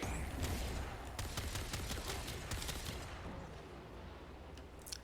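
Rapid gunfire in Warframe hits Nova's ability orb, producing a dense fusillade of sharp cracks over a rumbling low end that fades out after a few seconds, with no talking.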